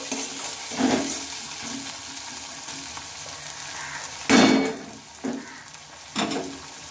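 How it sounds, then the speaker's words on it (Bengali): Chopped tomato goes into a pan of fried onions for a Bengali cabbage-stem dish, producing a soft sizzle broken by several loud bursts of stirring and scraping, close by with no speech. "তো টমেটো কুচিটাও আমি দিয়ে নিলাম আর টমেটো কুচিটাও একটু ভালোভাবে নেড়ে চেড়ে নেব"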